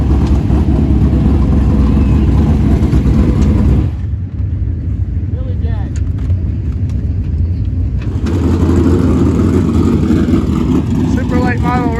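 Super late model race cars roar around Southern Raceway in a loud continuous engine drone that drops for a few seconds as the pack moves off, then surges back as they pass close again.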